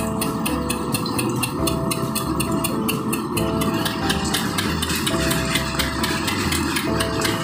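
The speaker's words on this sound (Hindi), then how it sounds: "ये डीजल इंजन पर चलता हुआ है।" A diesel engine runs steadily and loudly nearby, a continuous rumbling drone with a rapid regular knocking pulse and a faint recurring whine, with no voices.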